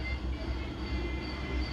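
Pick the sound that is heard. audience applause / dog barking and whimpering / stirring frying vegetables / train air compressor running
train air compressor running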